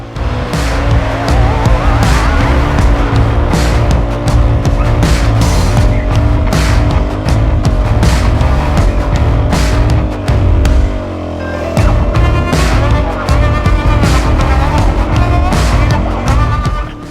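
An off-road vehicle pushes through soft beach sand in second gear, its engine roaring loud and close under sustained power, with a brief dip in revs midway before it climbs again.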